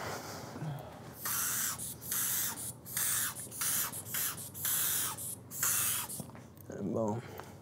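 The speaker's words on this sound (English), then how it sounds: "I'm gonna spray alcohol" Repeated short hissing bursts from a spray bottle of alcohol at a barber chair, about eight quick pumps in a steady rhythm, close by, with a brief voice murmur near the end.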